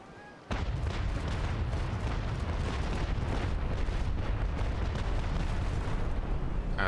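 Naval Action sea battle with a ship's cannons firing: a sudden loud boom opens a prolonged, dense rumbling volley of overlapping deep blasts that stays steady and heavy throughout.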